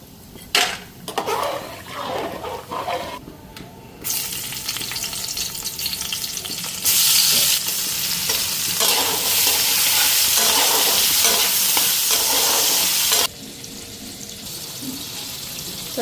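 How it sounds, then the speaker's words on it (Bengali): Lentil dumplings (bori) frying in a pan, loud steady sizzling that swells and drops as they are stirred, with a brief running-water stretch near the start. "তো এইদিকে বড়িগুলি ভাজা নিলাম।"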